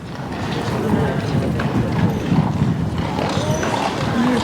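Horses walk past the Hungarian presidential palace in Budapest, their hooves clip-clopping steadily on pavement amid a busy outdoor crowd murmur.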